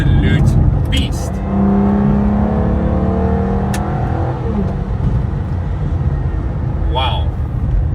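A 2005 Aston Martin DB9's naturally aspirated V12 roars as it accelerates through the revs in third gear, its pitch sweeping upward before easing off into a lower steady hum.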